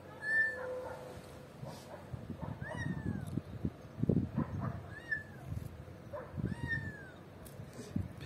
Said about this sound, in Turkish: Telefonda yardım çığlığı atan bir kedi sesi var.